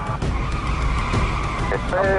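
An Audi RS4 speeds through a motorway toll without stopping, giving a steady loud roar of engine and tyres with a brief squeal. A voice talks over it.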